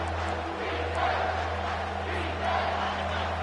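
A stadium crowd in the College Football 25 game at LSU versus Ole Miss roars steadily in a dense, continuous wall of noise, swelling slightly in waves under a low hum.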